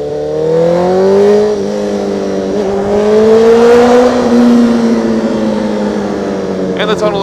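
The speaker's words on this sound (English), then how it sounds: "the tunnel exhaust is a lot better." A car engine revs and the exhaust rises in pitch, echoing off tunnel walls, loud and close through the whole stretch, with a sharp burst near the end.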